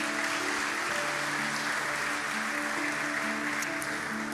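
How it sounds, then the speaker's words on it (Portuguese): A church congregation applauds at an evening worship service, steady dense clapping filling the room without break, with faint sustained background tones underneath. "Você pode aplaudir o Senhor mais uma vez essa noite?"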